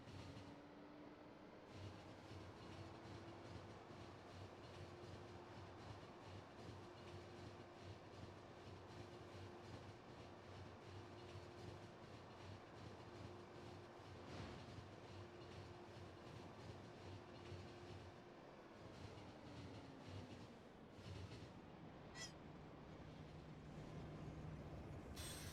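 Upgraded trains in the Factorio game with Pyanodon's mod run along the tracks, a steady rolling rumble with a sustained tone that drops in pitch near the end, then faint clicks, with no one talking.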